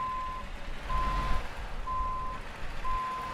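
In Euro Truck Simulator 2, a truck's reversing alarm sounds four evenly spaced steady beeps over a low idling engine rumble, with no speech.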